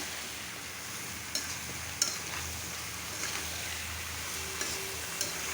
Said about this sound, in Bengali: এখন ভালো করে আস্তে আস্তে হইতে থাকবে আর নাড়তে থাকবো।